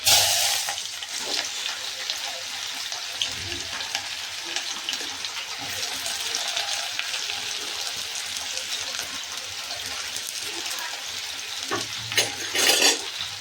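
Ridge gourd curry sizzling steadily in oil in a pot on a home stove, a continuous bright crackle and hiss close by that swells briefly near the end.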